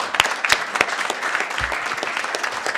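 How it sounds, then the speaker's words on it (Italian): Applause fills a city council session in Vittorio Veneto, a moderate crowd clapping steadily, with a few sharper individual claps standing out near the listener. "Un applauso."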